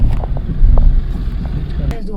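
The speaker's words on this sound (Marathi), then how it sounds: "फारच ट्रॅफिक आहे." Heavy highway traffic on a road trip near Indapur, Maharashtra: a steady low rumble of engines close by, with a brief horn-like tone near the end. People talk over the noise.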